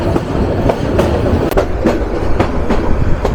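Kishoreganj Express passenger train running on rails after leaving a station, a loud steady rumble with a regular clickety-clack of wheels over rail joints recorded from aboard, with no talk.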